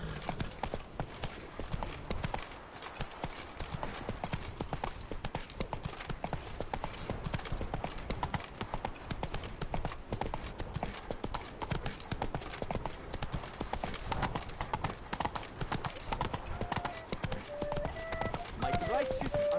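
Roach the horse gallops in The Witcher video game, with a fast, continuous clip-clop of hooves throughout under a steady game soundscape, with a voice speaking faintly.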